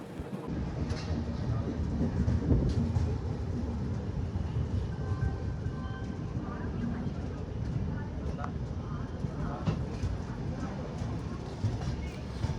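A passenger train on the Danapur–Secunderabad run, just leaving Secunderabad Junction, rumbles steadily at normal speed with a loud low roar and faint rattling of the coaches throughout.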